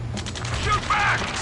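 Gunfire in the combat flight game Ace Combat 7 comes as rapid, rattling bursts with a mechanical clatter, set against a low steady drone and some faint tonal radio-like chatter.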